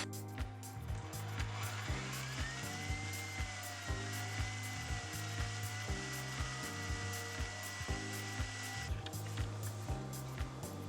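An electric mixer whips cream with cream of tartar added, a steady close motor whir with a rhythmic pulsing beat as the beaters work, with no talking.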